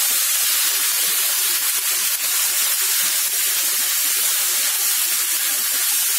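Peppers and onions fry together in a pan, producing a continuous bright hiss and sizzle with faint crackling, steady and close throughout, with no talking.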